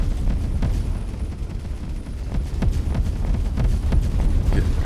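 Pulse cannon fire from an enemy fleet pounding a ship's hull in the space game Avorion, a steady dense rumble of rapid low thuds and booms throughout.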